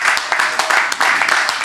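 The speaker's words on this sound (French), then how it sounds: "s'il vous plaît, applaudissez Ludivine" An audience at a public event claps for a woman on her birthday, a dense, loud wash of applause filling the room with a voice speaking over it.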